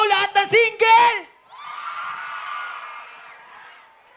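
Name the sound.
audience of singles shouting and cheering at a concert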